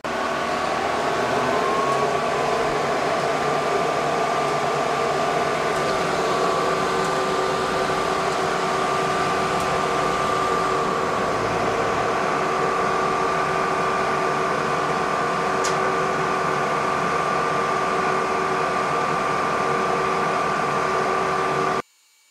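An xTool P2 55-watt CO2 desktop laser runs a nested cutting job, giving a loud, steady whirring hum with a constant fan-like drone and a faint high whine that holds evenly until it cuts off abruptly.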